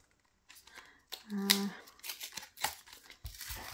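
A small product package from an Action store haul being opened by hand, close crinkling and tearing bursts in short bouts, with a brief tonal beep-like note and a voice speaking intermittently.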